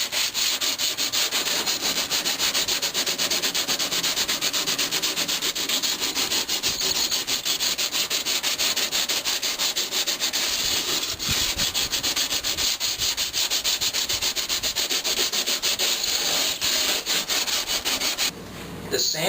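Steady, continuous hand rubbing of abrasive sanding film, a dense broadband scratching that runs unbroken for the whole stretch before stopping briefly near the end.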